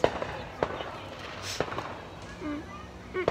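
Fireworks set off at a Fourth of July gathering give a few scattered, fairly distant pops and bangs, while people's voices and activity go on close by.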